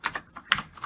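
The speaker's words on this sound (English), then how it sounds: "now I'm going to hit enter on my keyboard twice" Several quick keystrokes on a computer keyboard, close and crisp, tapped in a short uneven burst with no voices.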